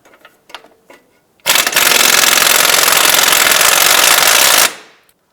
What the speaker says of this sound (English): In a 15mm socket, we want to go ahead and remove the sway bar end length nuts.